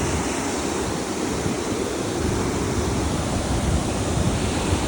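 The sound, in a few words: water flowing down through a natural rock hole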